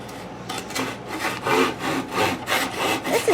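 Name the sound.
hand saw cutting wood pinewood derby car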